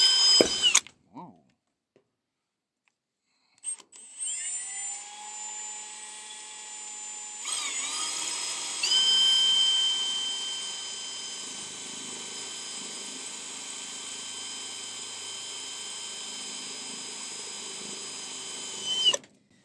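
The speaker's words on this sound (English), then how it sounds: "This unibit is not sharp." A power drill fitted with a dull unibit step bit bores into material while grounding a propane supply line, with short bursts early on, then a sustained whining run that strengthens midway and holds steady before cutting off.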